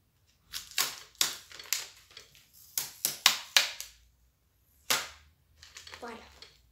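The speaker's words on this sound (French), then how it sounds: "On enlève le scotch tout doucement." Several sharp tearing rips of adhesive tape being pulled loose in quick bursts, with short pauses between, close up and fairly loud.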